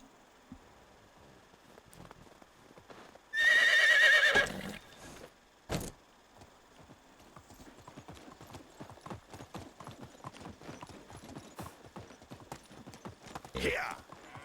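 Horse hooves clip-clopping in steady rhythm through the medieval countryside of the game Medieval Dynasty, opening with a loud, close whinny before the hoofbeats continue at moderate volume.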